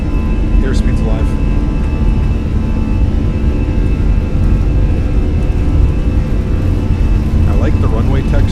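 Fenix A320 engines at takeoff power in Microsoft Flight Simulator produce a loud, constant jet roar with a deep low rumble that runs through the whole stretch, with a voice speaking over it.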